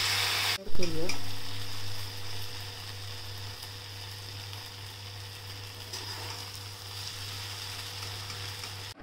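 Chili garlic cauliflower Manchurian being stir-fried, with a steady close sizzle of frying florets and a few louder stirring scrapes near the start, no voices.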